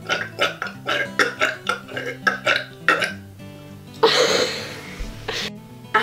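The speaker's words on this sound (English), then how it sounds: "I can burp on command." A person burps on command, producing a rapid series of short, loud belches in quick rhythm, followed by one longer, rougher burp and a final short one, close up with faint music behind.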